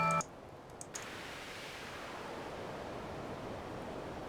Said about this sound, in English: The ocean is being made from some noise.